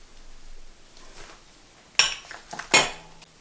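A spoon stirs caffeinated coffee in a container with a few sharp clinks and scrapes against the sides, close up and otherwise quiet.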